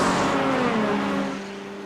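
Race cars at Monza, among them a small Acura NSX, roar past as a close, loud engine drone with steady harmonic tones that fade a little near the end.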